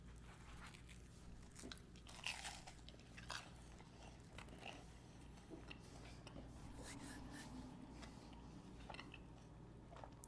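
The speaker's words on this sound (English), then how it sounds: "we have the tuna melt. I'm just gonna give it a bit of a taste." Bites and chewing on a tuna melt sandwich, a soft repeated crunch of toasted bread close to the mouth over a steady low background hum, with no talking.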